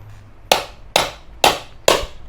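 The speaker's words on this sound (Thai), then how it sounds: "ถ้าจะเอาให้เร็วเราจะต้อง ตอกตัวจานเบรกออกนะ" An 8-inch electric scooter's brake disc being hammered out, four sharp metallic blows evenly spaced about half a second apart, close and loud with brief ringing after each strike.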